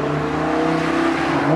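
A Lamborghini Huracan is driven along an open road in India, its engine holding a steady, loud, close hum that rises slightly in pitch toward the end.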